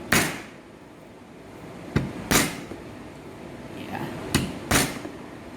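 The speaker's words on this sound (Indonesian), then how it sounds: "Kemudian bawang putih semuanya kita cencang halus. Kita pipihkan." Crushed garlic cloves being flattened with a knife on a cutting board in a kitchen: several sharp, separate thuds and knocks spaced a second or so apart, close and fairly loud, with no talk.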